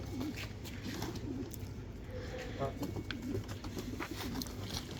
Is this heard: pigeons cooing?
yes